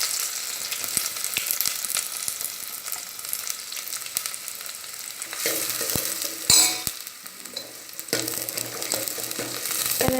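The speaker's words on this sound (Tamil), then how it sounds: "ஆனியன் நல்லா டிரான்ஸ்பரண்ட்டாக ஃப்ரை ஆயிடுச்சு" Mustard seeds, urad dal, shallots and curry leaves frying in oil for a fenugreek kara kulambu, making a loud, steady crackling sizzle punctuated by sharp clicks and scrapes of stirring.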